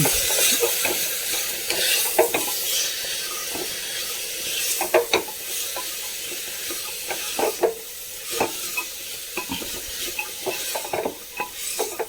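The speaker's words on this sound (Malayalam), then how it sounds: "പിന്നെ ഒരു സ്പൂണ് മുളക് പൊടിയും ഒരു കാൽ സ്പൂണ് മഞ്ഞൾപ്പൊടിയും ഒരു സ്പൂണ് ഉപ്പ് കല്ലുപ്പ് ഇട്ടു അതെല്ലാം കൂടി ഇട്ടിട്ടുണ്ട് ഒന്ന് ഇളക്കി കൊടുക്കാം" Rock salt, chilli powder and turmeric are stirred in a frying pan for a jackfruit seed and dried prawn curry. Repeated scraping strokes sound over a steady close sizzle, with no talking.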